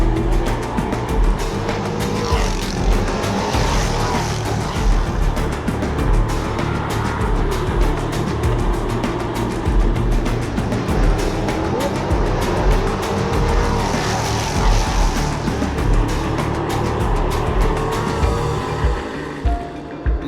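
Drag racing car skidding with tires squealing, a loud continuous roar of engine and rubber across a long stretch, steady and close with no talk over it.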